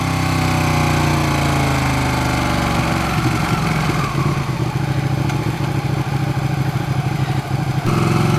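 A 2016 Ducati 959 Panigale in sport mode runs loud and close, its engine holding a steady harmonic drone with a rapid pulsing throb in the middle stretch before settling back to a smoother tone.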